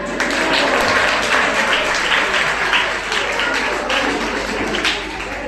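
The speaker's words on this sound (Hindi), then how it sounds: "जय वीरू के लिए तालियां" A seminar audience applauds, a dense steady patter of clapping from a roomful of people that stays loud throughout and fades slightly toward the end.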